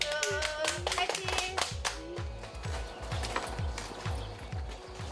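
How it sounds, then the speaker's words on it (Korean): Staff gathered in a greenhouse beside farm fields clap hands together in a loud, steady group rhythm, with a few voices calling out over the clapping. "박수. 파이팅."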